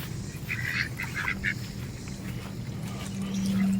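A few short, bright duck calls at a backyard duck pond, faint behind a steady wash of outdoor ambience and low hum, no talking.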